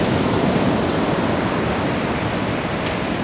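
Continuous roar of ocean waves breaking on the sandy beach at Anglet under a light south-southeast wind, a steady broadband wash with no distinct individual breakers, loud and close, with no voices.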